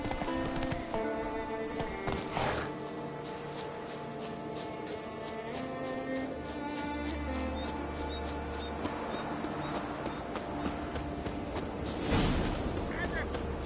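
Hooves of the horse Roach gallop in a steady, rapid clip-clop through The Witcher 3, close and continuous under game music and effects, with a short burst of louder action near the end.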